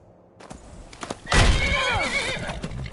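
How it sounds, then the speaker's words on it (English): A horse in the Skyrim video game gives a loud, close whinny with a rising and falling pitch, following a few soft thuds and lasting about a second and a half before it trails into a noisy background. "Yo, don't mess with my horse."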